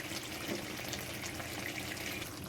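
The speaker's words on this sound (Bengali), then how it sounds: "তো এবার জল ঢেলে দেবো" Water is poured into a curry pan as it cooks, giving a steady, close splashing hiss with no break.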